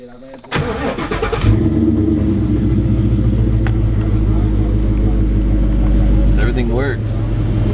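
A Coyote-swapped Foxbody car engine cranks and catches, then settles into a loud, steady idle close to the microphone, with a brief bit of speech just before it starts.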